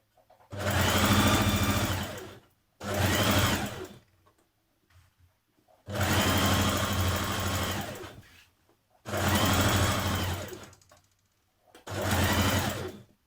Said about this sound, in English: Pin it all the way around before stitching.